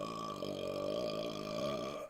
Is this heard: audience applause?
no